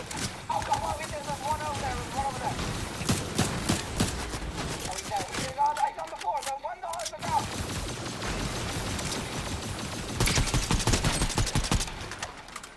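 Rapid video game gunfire in Fortnite, bursts of fast shots crackling repeatedly over several seconds while players talk over the shooting.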